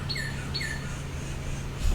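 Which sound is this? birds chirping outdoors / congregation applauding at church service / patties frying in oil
birds chirping outdoors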